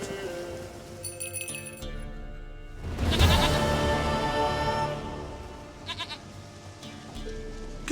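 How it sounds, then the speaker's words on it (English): A goat bleats in The Witcher 3 against a soft background of rural ambience and faint clinks, with a loud, wavering cry near the middle and shorter bleats afterward. "Goat of mine, dearest, sweetest goat."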